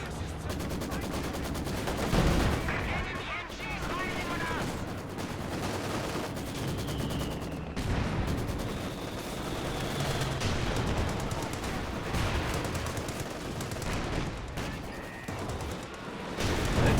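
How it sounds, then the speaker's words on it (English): Gunfire from an anti-tank gun and other weapons in a Company of Heroes 2 battle, with repeated cannon shots and bursts of automatic fire over continuous battlefield noise lasting the whole stretch. "Anti-tank gun opening up."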